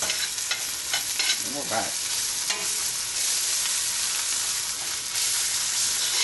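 Chicken pieces frying in a pan and releasing their juices, a close, steady sizzle with occasional scraping of the pan and a brief spoken word near the start.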